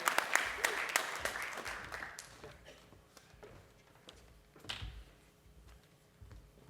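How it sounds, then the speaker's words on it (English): A room of attendees at the 2023 San Jose Downtown Association annual meeting breaks into a dense round of applause that is loudest for about two seconds, then thins into scattered claps and quiet room noise. "So a round of applause for all of you in this room on creating a beautiful and vibrant downtown San Jose."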